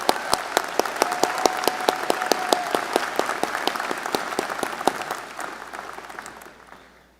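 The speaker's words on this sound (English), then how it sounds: "Let's give them a round of applause." An audience at a university graduation ceremony breaks into sustained applause, crisp overlapping claps that are loud at first and gradually thin out and fade over several seconds.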